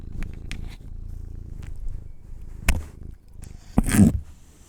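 A pet cat purring close up, a low continuous rumble broken by a few soft rustles and a louder bump near the end.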